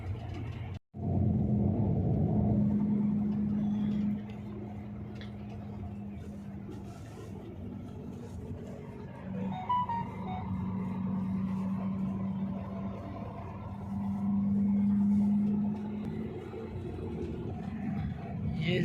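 A truck loaded with gas cylinders passes on a road in the hilly city of Khamis Mushait, heard as a steady low engine rumble from inside a vehicle, with someone talking over it.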